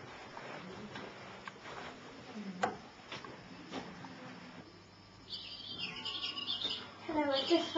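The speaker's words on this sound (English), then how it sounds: "I just found the bird." A rescued wild bird gives thin, high chirps, sparse at first and then quicker and clustered near the end, over rustling and low indoor background noise.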